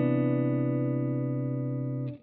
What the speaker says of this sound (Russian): Этот аккорд уже будет мейдж-9.